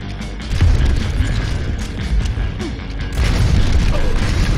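Rocket explosions from a 3v3 match in the video game Overwatch: a couple of heavy booms land about three seconds apart over continuous, busy game noise, with no talking.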